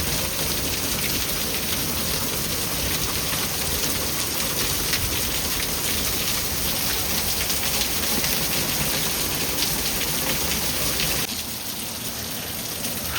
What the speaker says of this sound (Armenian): Կարկուտ է, կարկուտ։ Կարկուտ այստեղ հազվադեպ է լինում։